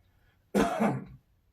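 A single short, rough cough or throat clear, close and fairly loud, lasting about half a second in otherwise quiet surroundings.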